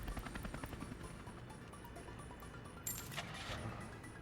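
Mi-10 cargo helicopters in the Workers and Resources game, a steady rotor chop with low rumble throughout, joined by a brighter mechanical burst near the end.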